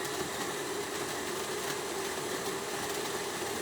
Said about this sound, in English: Let's grind them